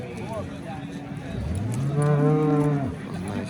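A cow lets out one long, loud moo that swells and fades, over a busy background murmur of crowd noise at a livestock market in Andijan.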